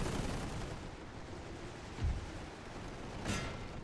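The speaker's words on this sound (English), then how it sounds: "I can actually turn the artillery around and get started on shooting down the enemy general" Artillery fire in The Great War 6.0 strategy game: a couple of muffled, distant booms over a steady rumbling battle background, with no talking.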